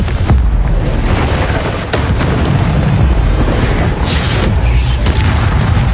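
Repeated spell-blast explosions from a Harry Potter video game, loud and booming with bursts and pops layered into a dense, continuous barrage.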